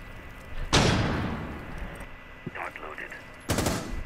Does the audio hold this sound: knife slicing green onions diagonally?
no